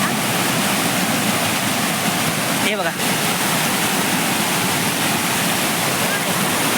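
Rushing river water, a steady broadband roar that fills the scene throughout, with someone speaking briefly over it.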